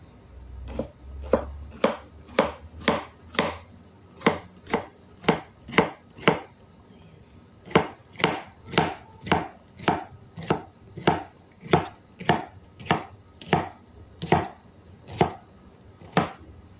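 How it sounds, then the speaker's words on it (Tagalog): Onion and garlic being chopped with a knife on a cutting board for home-style ginisang ampalaya, a steady series of about twenty crisp, evenly spaced chops, close and clear with no talk. "Ngayon, maghihiwa na tayo ng sibuyas at bawang."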